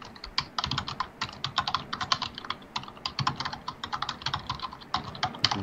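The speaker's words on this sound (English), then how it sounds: "I can hear you typing like crazy." Rapid, steady keystrokes on a computer keyboard clatter without a break, quiet and close, with irregular bursts of clicks and no voices.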